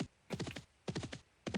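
A horse in Dark Age of Camelot gives three short bursts of hoof clops and whinnying, close and clear, separated by brief quiet gaps.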